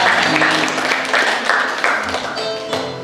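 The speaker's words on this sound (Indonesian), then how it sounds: "Kasih tepuk tangan buat saudara kita." Applause from a church congregation during a Sunday sermon, honoring a child volunteer; the clapping is loud and close, with a few voices briefly audible underneath before it tapers off.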